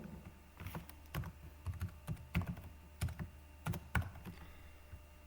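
Someone types on a computer keyboard, quick irregular clusters of clicks and key taps at close range, with short pauses between bursts.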